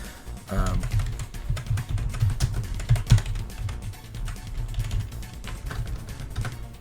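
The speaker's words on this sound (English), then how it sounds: "Sorry, I'm not very good at typing." Soft, irregular clicking of keys on a computer keyboard, steady and close, with faint background murmur.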